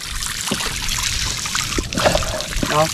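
Water trickles and splashes steadily as it is poured, with a few brief knocks and a faint voice in the background.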